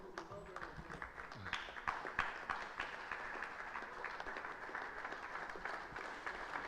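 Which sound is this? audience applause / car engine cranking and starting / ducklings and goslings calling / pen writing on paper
audience applause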